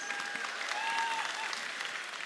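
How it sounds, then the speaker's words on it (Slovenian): An audience at a cosplay contest gives sustained applause for the sponsors, a dense even clatter of many hands, with a faint voice and a whistled tone over it. "Tako da en aplavz za naše sponzorje."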